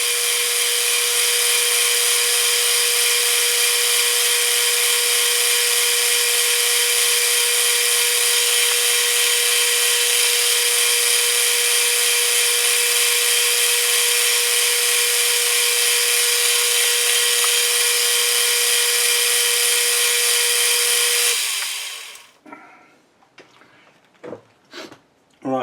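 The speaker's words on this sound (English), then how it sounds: "I'm just going to polish a little bit." A power tool polishes an aluminum oil pot, a loud steady whine droning without pause for about twenty seconds before cutting off into a few faint clicks and knocks.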